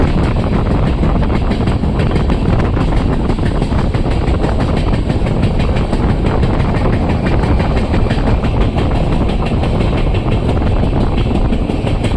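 Mysore to Chennai SF Express rolling toward Ramanagara station, a loud, steady roar of wheels and carriage rumble with a faint clickety-clack running unbroken throughout, no voices.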